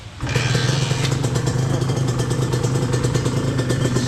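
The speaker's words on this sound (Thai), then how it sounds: "รันอินรันอินก่อนนะพี่นะเอาฟังเสียงเครื่องดูครับ" A Honda NSR 150 motorcycle engine, a rebuilt bike being run in, starts and runs steadily close by with a rapid, even two-stroke putter and rattle, loud and alone without speech.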